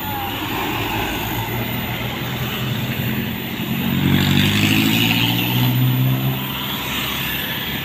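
A Canter truck climbs past on a mountain road. Its engine drone swells and rises in pitch midway, then eases as it moves on over steady road noise.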